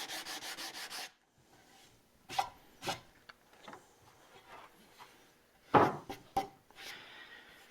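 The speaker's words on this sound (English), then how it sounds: "So a little more sanding with the 80" Wood rubbed by hand with 80 grit sandpaper, heard as a quick run of scratchy strokes, then sparser, separate rasping passes with quiet gaps between them; fairly close, with no talking.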